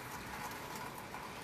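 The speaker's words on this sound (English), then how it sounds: "So look like the rain slacked up a little bit, huh?" Light rain falling steadily, a soft continuous patter on surfaces with no talking, evenly spread and moderately close throughout.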